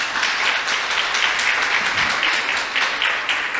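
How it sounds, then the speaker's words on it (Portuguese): Church congregation clapping during an evening service, a dense, continuous burst of applause from many people filling the room, steady and moderately loud. "Você pode aplaudir a vida desse homem de Deus, não?"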